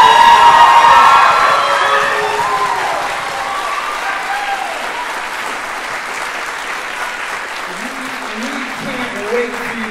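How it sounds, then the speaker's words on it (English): A concert audience bursts into loud, sustained applause and cheering, with scattered shouts over dense clapping that carries on steadily for ten seconds and eases off only slightly. "can you give them a really big round of applause right now,"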